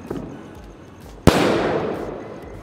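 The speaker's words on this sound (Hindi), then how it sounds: "और अब चलाते हैं बिग बुलेट बॉम वाले रॉकेट को।" A Diwali rocket fitted with a big Chidambaram bullet bomb firecracker goes off in one sharp, loud blast halfway through, followed by a long fading rumble and crackle after a quiet fizzing lead-in.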